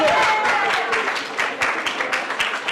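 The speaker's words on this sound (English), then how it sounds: "Guys, give Yasser a round of applause, please." Audience applause in a room with a percussion drum on hand, clapping that starts dense and thins into scattered claps, with a murmur of voices underneath.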